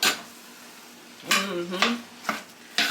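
Stirring meat as it browns in a pan for taco soup, with a few scraping, clinking strokes of a utensil against the pan over a faint sizzle in a home kitchen.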